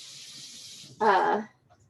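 Tap water runs in a short, soft hiss as a cabbage is rinsed, then a voice speaks briefly as the flow fades.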